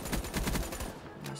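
Rapid submachine gun fire in a Call of Duty Black Ops 3 match, RazorBack SMG: a short burst of quick, evenly spaced shots, fairly loud, then a brief tail after the firing stops.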